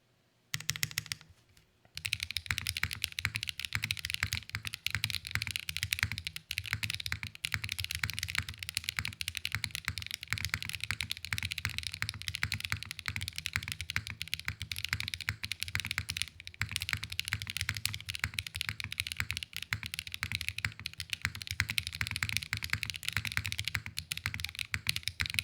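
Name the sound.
mechanical keyboard typing, Hyacinth switches, aluminum plate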